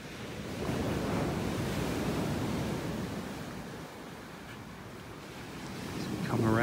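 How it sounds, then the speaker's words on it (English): Surf washes onto a beach in North Naples, Florida in a steady broad roar with slow swells of loudness, mixed with wind noise on the microphone, and a brief voice near the end. "Coming out onto the beach here in a minute"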